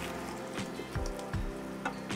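Vegetables dropped into hot butter and garlic in a pan sizzle with a steady, close crackle, punctuated by a few louder bursts as pieces hit the fat.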